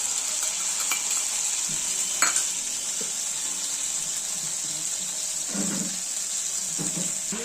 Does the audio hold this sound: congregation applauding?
no